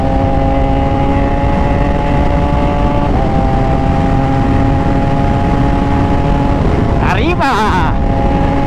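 A Kawasaki ZX6R motorcycle drones steadily at low speed while riding, loud and close with a wind-buffeted hum, before a short rising wail near the end.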